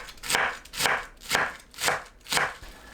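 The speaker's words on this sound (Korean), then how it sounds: "양배추를 곱게 채 썰어 주세요" A knife finely shredding raw cabbage: five evenly spaced crisp slicing strokes, about two per second, close and fairly quiet.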